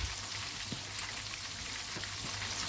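Chicken pieces fry in hot oil for a crispy spicy fried chicken, giving a dense, continuous close sizzle with scattered pops and crackles and no talking.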